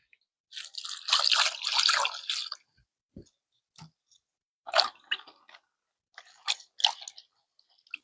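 Water drips and splashes as a coconut is washed off, in short uneven bursts with a longer splashing run near the start, close by and fairly quiet.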